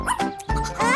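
A cartoon puppy gives three quick, bright bow-wow barks and yips in a row, close and clear, in a children's farm-animal show.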